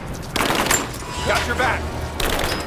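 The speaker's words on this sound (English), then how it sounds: "I'm under fire!" Rapid bursts of gunfire in Rise of the Tomb Raider, loud and close, one sustained volley early and another starting near the end, with a voice speaking between them.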